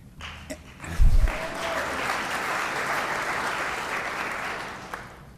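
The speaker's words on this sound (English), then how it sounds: "I'm not used to so much applause during my messages." A large audience at a temple rededication bursts into applause after a speaker's remarks about green practices, a thick continuous clatter of many hands lasting several seconds with a brief thump near the start.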